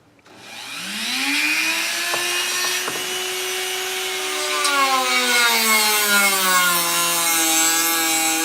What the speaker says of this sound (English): And now I'm going to slice it with my Dremel and see how I do.